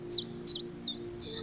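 A little bird in a children's story chirps four times in an evenly spaced series of bright, clear tweets, close and loud against a quiet low hum.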